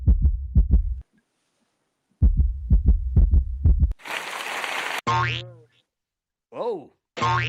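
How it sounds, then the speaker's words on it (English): A heartbeat sound effect plays as two bursts of low, thumping double beats, separated by a pause and followed by unrelated bursts of noise and springy boing effects. "A heartbeat."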